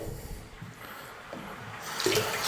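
Water gurgles and swirls faintly as it drains from a sink, ending in a louder burst of rushing flow.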